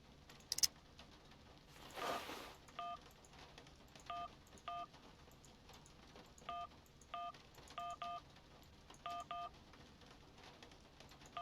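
Telephone keypad tones in the Syberia video game, a series of short paired beeps tapped out one after another at an irregular pace, quiet and clear with faint background ambience.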